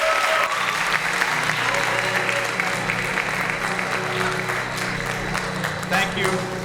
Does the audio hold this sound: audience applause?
yes